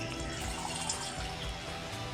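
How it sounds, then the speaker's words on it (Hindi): About 20 ml of pesticide liquid poured from a measuring cup into a garden spray machine tank, a soft, steady trickling and splashing that stays faint and continuous throughout. "तो अब इसे मैं स्प्रे मशीन में डाल देता हूँ"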